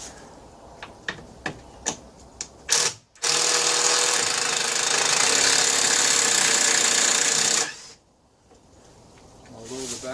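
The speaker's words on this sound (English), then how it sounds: "this machine here is my answer to a screwdriver, because I wrecked my wrists 15 years ago, and I can't turn a screwdriver, but this turns just lovely" Battery-powered electric screwdriver with a tired battery, a few light clicks and then a steady close motor whine lasting about five seconds before stopping, with faint voices around it.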